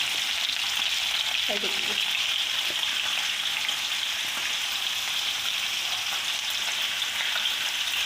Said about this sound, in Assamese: ইয়াতে তেল দিলোঁ, তেলৰ লগত মই পিঁয়াজ দিলোঁ